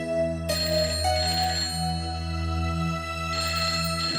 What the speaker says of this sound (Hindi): इतनी रात किसका फोन आ गया?